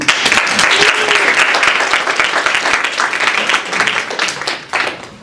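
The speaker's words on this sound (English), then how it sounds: "I want to give our entire panel another round of applause." Audience applause for the panel at a wellness expo and community breakfast, with a burst of clapping from a room full of people, loudest at first and then tapering slightly with a few sharper claps near the end.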